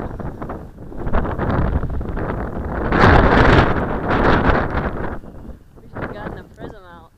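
Strong wind buffets the microphone in a loud, roaring gust that peaks midway, then eases off as a voice speaks briefly.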